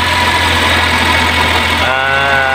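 Suzuki K6A engine idling close by, a loud steady mechanical rumble with a low hum, and a change in tone near the end as the running note shifts; no speech.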